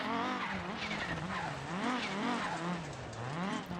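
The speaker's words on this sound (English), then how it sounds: "by doing a great drift entry in sector 7" A rally car in a video game drifts through a corner, its tires skidding and its engine wailing in rising and falling sweeps, loud and continuous.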